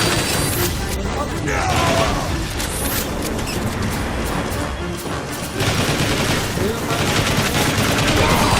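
Dense, rapid weapon fire from Transformers robots in a video game, loud sustained bursts and blasts running almost the whole time, with voices speaking over the combat.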